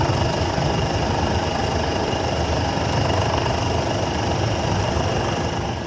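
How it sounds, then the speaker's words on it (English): Traditional Moroccan olive mill with two massive stones grinding olives, giving a steady, loud mechanical rumble and whir that runs unbroken throughout with no voices. "these two massive stones start to grind the olives"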